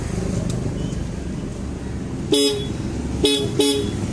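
Three short horn toots, one alone and then a quick pair, from a Click 125i motorcycle with no working lights, sound over a steady engine idle and road rumble.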